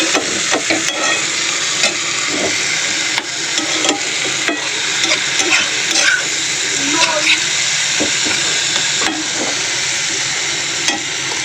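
Spices sizzle and fry in a small pot while a spoon stirs and scrapes with irregular clinks and knocks, a steady close hiss underneath and a voice speaking briefly at moments.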